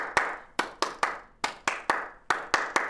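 Bare hands clap a loose rhythm, eleven crisp claps in small groups with uneven gaps, close and clear in a quiet room.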